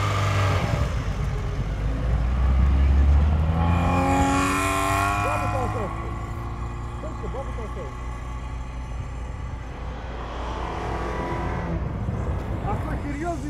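A 1986 VAZ 2121 Niva drives through fresh snow, its engine droning and revving nearby, louder early on and then settling into a steady hum, with people talking over it.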